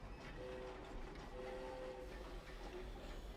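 Train in the video game New Super Lucky's Tale, a steady rumbling ride with faint whistle-like tones sounding briefly twice, continuous and moderately quiet throughout.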